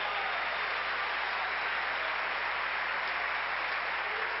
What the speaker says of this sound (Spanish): Un aplauso a ese Señor, aleluya